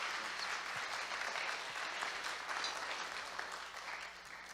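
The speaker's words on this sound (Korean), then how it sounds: "우리 큰 박수로 환영하겠습니다." A church congregation at a Sunday service applauds to welcome a missionary, sustained dense clapping that holds steady and then tapers slightly near the end.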